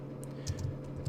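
Light key taps on a Mac keyboard as terminal commands are entered, a few soft clicks scattered over a steady low hum, fairly quiet and close.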